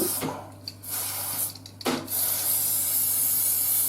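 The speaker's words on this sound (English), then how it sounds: "Spray it with some Leisure spray" Cleaning spray, a Leisure-brand solvent, hissing into a practical shotgun barrel near the forcing cone, with a couple of short bursts and then one long steady spray up close, plus faint handling clicks.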